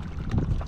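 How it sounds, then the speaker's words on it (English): An iRocker All Around 11 Ultra inflatable paddle board is paddled against the tide; a single brief stroke sloshes through the water, close to the microphone, with light wind noise behind it. "we're paddling against the tide"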